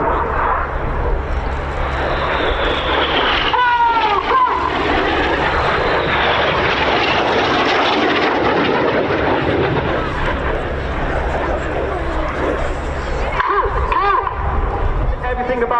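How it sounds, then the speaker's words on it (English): A synchro pair of display jets at the RAF Cosford Air Show passes low at about 100 feet, a loud continuous engine roar with rising and falling passes, under a commentator's voice and crowd murmur. "Keep an eye left and right for the Synchro pair coming back at 100 feet."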